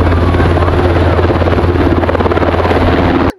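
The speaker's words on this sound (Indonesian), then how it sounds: "Helikopter nih, helikopter militer." A toy military helicopter runs with a loud, steady whirring buzz of its rotor motor, constant and close up, cutting off abruptly at the end.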